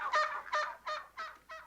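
Geese in a farm pen honk five times in a steady, evenly spaced rhythm, each call nasal and fairly close, with no other sound around them.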